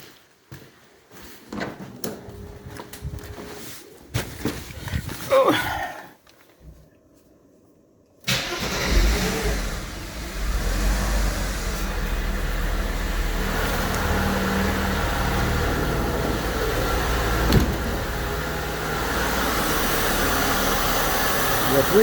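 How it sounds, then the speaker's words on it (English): A Mercedes W124 convertible with KE-Jetronic injection and a rich-mixture fault cranks with a few faint clicks, then its engine catches and settles into a loud, steady idle that runs on to the end, with someone talking early on. "Now I'm going to start the car."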